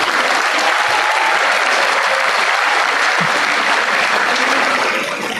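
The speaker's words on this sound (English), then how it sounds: "So again, they are here to receive your applause." An audience at a university orientation program applauds the wellness team with steady, dense clapping that fills the hall and fades slightly at the very end.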